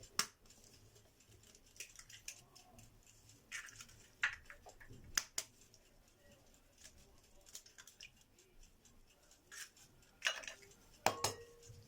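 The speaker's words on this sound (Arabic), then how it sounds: "دلوقتي هنكسر البيض كده زي ما شايفين اهو" Eggs are cracked for a sponge cake: sharp taps and cracks of shells against a bowl, with clinks of kitchenware, recur through a quiet kitchen, with faint birdsong in the background.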